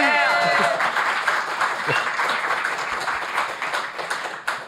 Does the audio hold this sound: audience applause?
yes